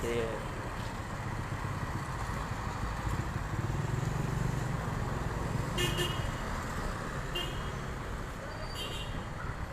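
Police brigade vehicles move through a street in Jambi, Indonesia, during unrest at the city council office. A steady traffic rumble runs throughout, with a few short horn toots and faint voices in the background.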